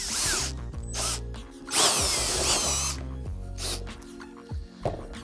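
A power drill boring a hole through a piece of wood for a lathe stand, a close, loud whirring with shifting pitch that starts, stops and restarts in short bursts, with no speech.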